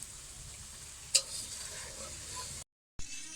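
Chicken curry sizzles and fries in a pan over a clay stove, a steady crackling hiss with a sharp scrape of stirring, close and moderately loud, then a brief cut before the frying resumes.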